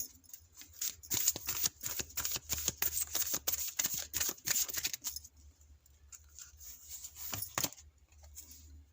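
Tarot cards are riffled and shuffled in quick, crisp bursts of flicking and slapping for about five seconds, then a pause and a few softer snaps as cards are drawn from the deck, close and fairly quiet.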